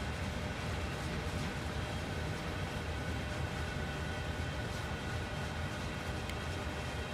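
An ICE train in Train Sim World 3 on the Kassel line rolls past and brakes, giving a steady, dense rumble and rail roar that holds at an even level throughout.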